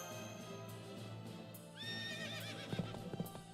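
In the video game Fate/Grand Order, a horse lets out a loud, wavering whinny over a steady background music bed, followed by a few clip-clopping hoof steps near the end.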